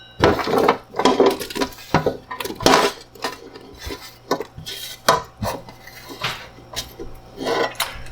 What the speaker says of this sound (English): So now it's time to add all of our aromatic.